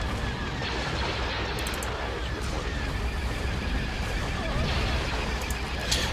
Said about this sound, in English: let's check out the cinematic view of the space battle. Here's our squadrons of TIE fighters all moving in. Bombers are making a run on the thing.